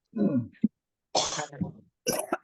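Several people cough and clear their throats in short separate bursts during a prayer session, one rough cough after another with brief gaps, close and fairly loud.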